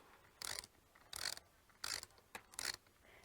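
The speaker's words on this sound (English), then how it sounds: "So you can start unwrenching it" A wrench ratchets against a nut on the canopy clip of a Zoom360 Ultralight jogger stroller, giving five short, close, rasping clicking bursts with brief pauses between them.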